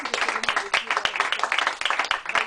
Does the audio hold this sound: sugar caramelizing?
no